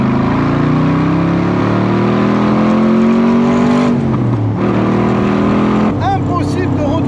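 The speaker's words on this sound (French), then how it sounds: "Quand j'accélère, j'ai l'impression en fait d'être dans le V8." A 1960s Corvette C2 V8 accelerating through the gears, a loud, close engine roar climbing in pitch, dropping briefly at a shift near the middle, then climbing again, with a slight rustle toward the end.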